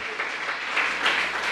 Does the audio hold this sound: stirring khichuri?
no